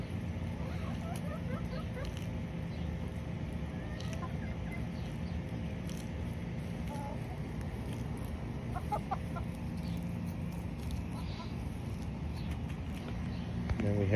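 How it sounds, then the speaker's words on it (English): Backyard hens of mixed breeds, including Polish, Cochin, Ameraucana and Silkie, cluck softly and intermittently outdoors over a steady low rumble of background noise, the calls scattered and fairly distant. "There's a Polish chicken, there's a Cochin,"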